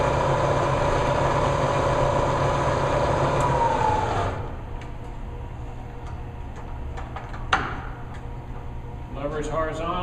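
A milling machine running in its low speed range hums and whines steadily, then the tone drops as it winds down, with a sharp clank partway through and a voice speaking near the end.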